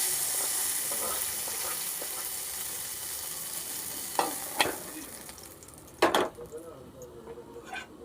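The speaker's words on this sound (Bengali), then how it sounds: "মাছগুলো এখন উল্টাই দিব।" Fish fry in a pan with a steady sizzle and hiss throughout, broken by a few sharp clatters and scrapes near the end as the pieces are flipped.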